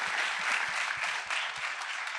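Another round of applause from an audience honoring cancer center doctors on stage, full and continuous clapping from many people, fairly loud and even throughout with soft low thuds beneath and no speech.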